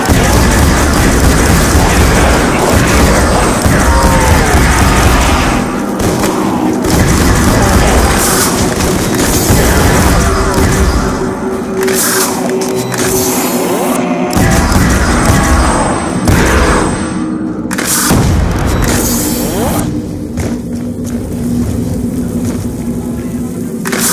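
Repeated heavy booms and crashing blasts from a pack-a-punched War Machine grenade launcher in Call of Duty Zombies, loud and dense throughout with rumbling impacts and faint game sounds between explosions.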